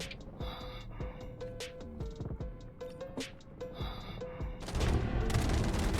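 Gunfire in the Delta Force video game: rapid bursts of shots with sharp, repeated cracks, rising into a dense, louder volley near the end, with no talk.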